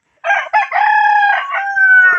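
A rooster crows loudly and close by, one long drawn-out call with a rising start and a sustained, strained ending.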